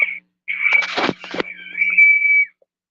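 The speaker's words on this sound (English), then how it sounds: "That's my coldest water bottle. It whistle if I don't unscrew it a little bit." A cold water bottle whistles because its cap is not unscrewed, a high thin tone holding steady, broken by a couple of rough rattling bursts midway, then fading out.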